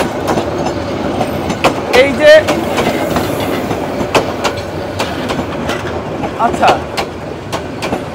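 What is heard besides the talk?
train passing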